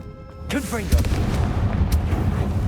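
A Confringo fire-blast spell bursts in Hogwarts Legacy, a booming blast followed by a rumbling roar, with a voice speaking over the start.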